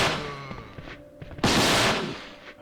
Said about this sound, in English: It's basically like a gigantic taser that the police use.